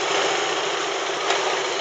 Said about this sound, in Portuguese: O ronco dela é da hora.